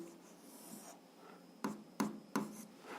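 Quiet scratching of a pen writing physics equations, close and soft, ending in three sharp taps at regular intervals.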